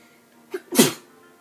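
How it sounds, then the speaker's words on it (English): A single sharp sneeze, a short intake followed by one loud explosive burst, close to the microphone in a quiet room. "Sorry, I sneezed."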